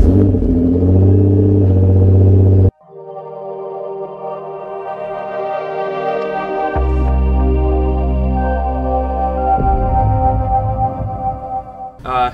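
A car carrying a pair of people on the way to a vapor honing job for a Honda Monkey Z50J cylinder head: a loud, steady engine rumble with a clear tonal drone that rises and shifts as the car pulls away, up close and without talk.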